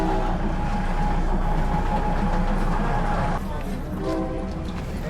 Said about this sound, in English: It takes about a minute for the train to pass, so you have to stand your grounds.